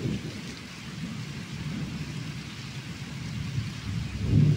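Steady heavy rain pours down at night near the Indian border, with low rumbling thunder rolling underneath, building slightly louder toward the end.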